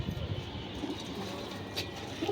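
Female pigeons cooing in a loft, low overlapping throaty coos rolling continuously nearby, with faint background noise and no talk.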